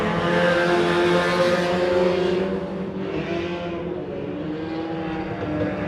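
Race cars roar past on a short oval track, the engine blare loud and steady before the pitch dips and fades slightly as they move on, with no voices over it.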